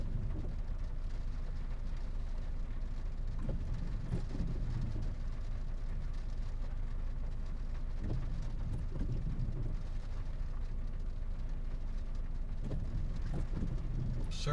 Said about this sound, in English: It's still raining pretty considerably.